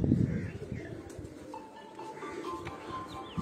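Pigeons coo softly on a rooftop near a river, with low, fluttery calls under distant outdoor noise. A few faint, brief bird calls rise over the background.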